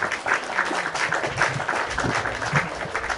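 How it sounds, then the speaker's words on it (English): Dense, continuous applause fills a conference hall in Poznan, Poland, as an audience welcomes an introduced coordinator. Many hands clap at once, steady and moderately loud, with no speech over it. "Applause to him."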